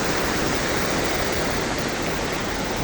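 Cachoeira do Saltinho waterfall in Santana do Itararé, Paraná, a constant, loud, broadband rush of falling water heard close up, with no voices.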